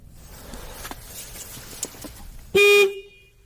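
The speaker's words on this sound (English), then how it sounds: "That was definitely the horn." A loud, steady car horn blares once for about a third of a second, rising abruptly out of quiet background rustling and faint scattered knocks.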